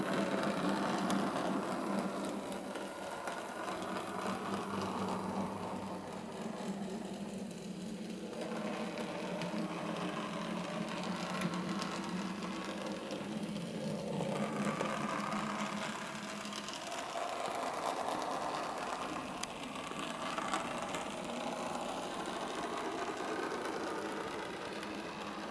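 Bachmann OO-gauge Wickham Trolley model running on a test layout, giving a steady whirring mechanical hum from its motor and gears that continues without a break.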